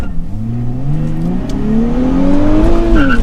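A 2023 Nissan Z Performance with a manual gearbox launches hard from a standstill, engine revving up loudly and climbing through a gear change as it accelerates close by.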